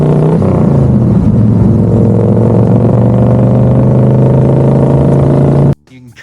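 A car engine revs hard through a slipping transmission and holds a steady, droning pitch that fails to climb, then cuts off abruptly near the end.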